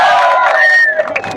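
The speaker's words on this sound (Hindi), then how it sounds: "ताली बजा दीजिए।" Crowd of young people at an unemployment protest rally in Uttarakhand cheering and shouting loudly, a dense, continuous roar of voices with whoops rising over it for a moment.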